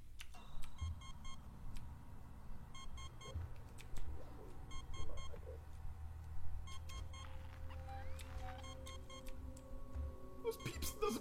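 Repeated electronic beeps come in short regular bursts during Alien Isolation gameplay, over low ambient hum and faint game noises.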